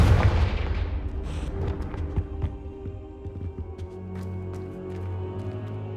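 A Confringo blasting spell explodes in Hogwarts Legacy, a loud, heavy boom at the start that decays into a long, droning rumble with scattered crackles.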